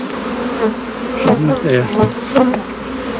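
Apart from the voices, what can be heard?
honey bees buzzing in an opened beehive box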